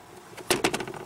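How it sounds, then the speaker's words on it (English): A Mitsubishi Outlander Sport glove box, undamped, drops open with a quick plastic clack followed by a couple of rattling knocks as it settles, close by and alone. "Just slams right down, it's not damped"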